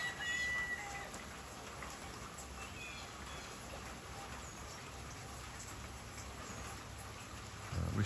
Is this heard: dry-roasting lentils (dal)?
no